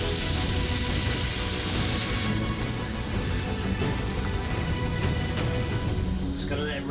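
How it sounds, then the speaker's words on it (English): A steak sears in a hot pan with a loud, steady sizzle close by, and a voice talks over it. "all you want to do is sear it first. So I'm gonna get it. Should have a nice sound to it."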